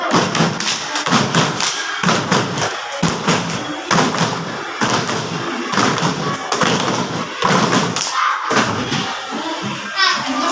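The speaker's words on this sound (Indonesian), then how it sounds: "Tepuk tangan." Children in a classroom clap their hands together in rhythmic bursts, loud and close, with short pauses between rounds of clapping and a few young voices mixed in.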